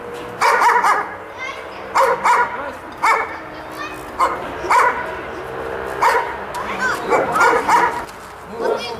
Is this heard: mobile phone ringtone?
no